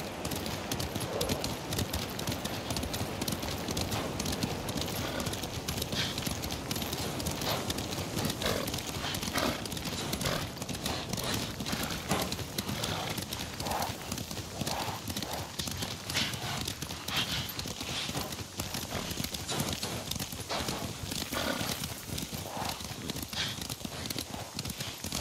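Horses gallop in the video game Ghost of Tsushima, a rapid, continuous clip-clop of hooves up close, with a whinny and game sounds mixed in.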